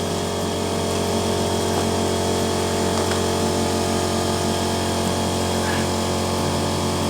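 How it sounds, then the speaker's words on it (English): A small air compressor runs steadily, building pressure, with a constant motor hum and a mechanical whine that hold at the same level throughout. "So let's turn the compressor on, let the pressure build up in the compressor."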